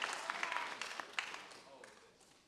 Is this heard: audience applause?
yes